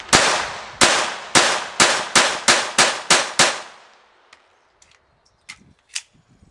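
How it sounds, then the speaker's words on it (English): A Glock 44 .22LR pistol fired rapidly into the centre of a body armor vest: about ten sharp, evenly spaced shots, loud and close, followed by faint scattered clinks of falling casings and a few quiet sounds. "I'm just gonna unload this whole Glock here into the center of that vest."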